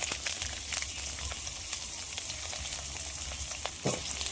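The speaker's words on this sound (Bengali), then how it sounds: "প্রথমে দিয়ে দেব কেটে রাখা পেঁপে।" Cut papaya fries in hot oil in a wok, a continuous moderate sizzle with scattered crackles and occasional soft spatula clicks, heard alone without talk.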